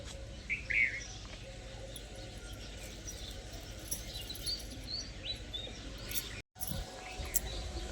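Sparrows at the feed give small, scattered chirps over a steady outdoor background hum, with a brief dropout near the end.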